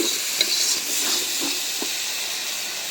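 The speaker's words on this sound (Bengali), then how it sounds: "মশলা একদম ভাজা ভাজা করে নিলাম।" Spices fry in a hot pan with a steady, close sizzle and hiss, broken by a few soft scrapes of stirring.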